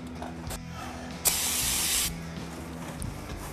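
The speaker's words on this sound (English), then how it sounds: "Take some carb cleaner and clean it off so the sticker sticks good to it." Carb cleaner is sprayed onto a Yamaha FX Nytro MTX snowmobile chassis in one steady, close hiss lasting under a second, set against a low background hum.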